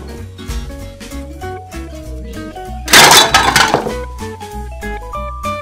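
A phone drops and shatters inside a video game, a loud burst of breaking glass and clinking debris lasting about a second over steady game music.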